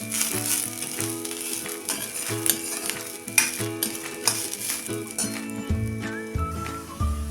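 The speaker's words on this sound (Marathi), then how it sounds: "तेलावर ही चांगली भाजेपर्यंत आपण परतत राहायचं आहे" Moth beans roast in a little oil while being stirred, and a steady sizzle runs under frequent rhythmic spatula scrapes. Soft tonal background music plays throughout.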